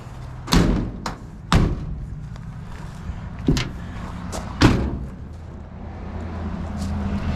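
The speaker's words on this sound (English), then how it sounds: "I gotta shut these doors and back up." Several heavy thuds of International Travelall doors slamming shut, spaced a second or two apart, over a low idling rumble.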